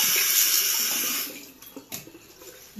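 A tap runs loudly while someone rinses their face with cold water, then the flow stops and a few scattered splashes and drips follow.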